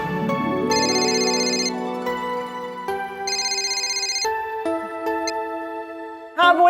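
A telephone ringtone sounds in a household comedy scene, two bright electronic ring bursts separated by a short pause, with softer tonal sounds and a brief noise at the end.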